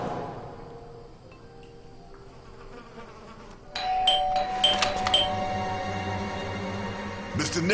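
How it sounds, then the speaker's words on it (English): A doorbell in the video game Blues and Bullets chimes with bright ding-dong tones over a low room hum, followed by a few softer chimes near the end. "I thought I should use the doorbell so I wouldn't startle you."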